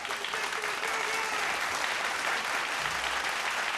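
Steady audience applause at a televised vocal battle show in Papua New Guinea, a continuous even wash of clapping with faint voices underneath.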